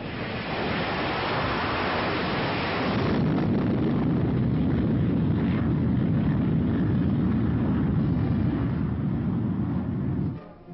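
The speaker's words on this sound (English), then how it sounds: "America was building an arsenal of jet bombers." A jet bomber roars past, a loud continuous broadband rush that swells after a few seconds and holds steady before cutting off abruptly near the end, with no voices.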